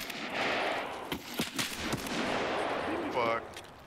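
Sniper gunfire in Escape From Tarkov: several sharp, separate shots crack out over a steady background, fairly close and loud, with a voice heard briefly near the end.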